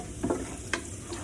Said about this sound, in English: You just kind of want to cook the garlic so it browns.